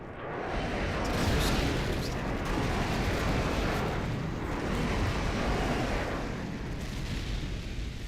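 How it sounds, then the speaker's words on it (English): An airstrike in an old Call of Duty match sets off a continuous heavy roar of explosions and rumble for several seconds, loud and dense, fading slightly near the end, with no talk over it. "Friendly airstrike on the way."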